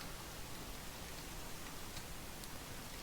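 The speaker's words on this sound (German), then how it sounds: "Ah, es regnet." Minecraft rain falls steadily as a faint, even hiss throughout, with no other sounds.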